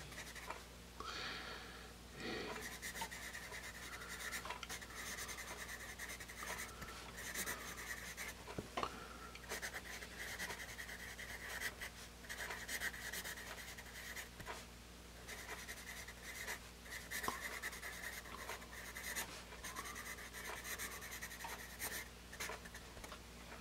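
Graphite scratching across paper from a General's Pacific #1 hex pencil, a steady close stream of strokes with short pauses between words, no talking.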